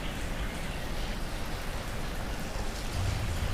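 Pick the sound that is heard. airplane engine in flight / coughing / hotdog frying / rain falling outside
rain falling outside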